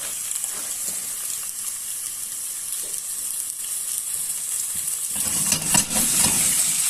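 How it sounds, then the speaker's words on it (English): Pieces of beef are set into hot oil in a pan, and a steady hiss of searing grows louder and fuller toward the end. The sizzle is close and heard alone, with no voices. "Basically just gently place the pieces of beef in the pan."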